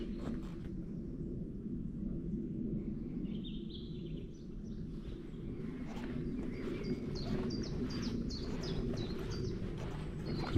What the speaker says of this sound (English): Some beautiful bird song.